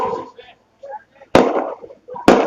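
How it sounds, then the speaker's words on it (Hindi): Firecrackers burst at an outdoor political rally in Malegaon, two sharp, loud cracks cutting through someone speaking over a public address. "अगर कोई मेरा हमदर्द होगा और वो पटाखा फोड़ रहा होगा तो वो बंद कर दे।"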